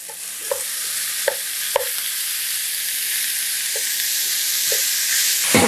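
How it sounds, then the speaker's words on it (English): 80-20 ground beef fries in a pot with a loud, steady sizzle and hiss, broken by a few scattered crackles and pops and a final clatter at the very end, close and with no voices. "We got our ground beef, 80-20. Throw our beef in there."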